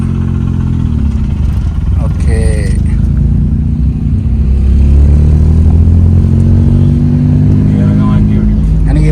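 A car engine hums and revs under load during a driving lesson, with continuous low engine drone and some rising revs. People talk over it.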